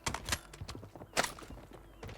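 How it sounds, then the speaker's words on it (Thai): Footsteps in Call of Duty Warzone, a run of sharp, close thuds and scuffs in an irregular rhythm over quiet game ambience, with no talk. "เสียงเท้าด้วยครับ"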